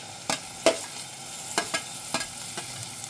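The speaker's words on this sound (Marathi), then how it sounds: "आता हा टोमॅटो पण छान परतून घ्यायचा आहे." Tomato and onion sauté in a pan with a soft continuous sizzle, broken by several quick spatula scrapes and taps against the pan.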